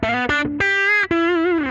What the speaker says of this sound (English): For an overdrive sound, I'll depend on a guitar pedal. I'll pick a vintage drive pedal